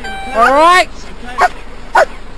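A police K-9 dog tracking a fleeing suspect gives a drawn-out whining yelp followed by two short barks, close by and loud, with a brief spoken word among them.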